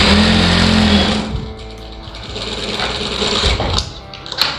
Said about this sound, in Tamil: இப்போ கீழே மடித்து தைச்சாச்சு.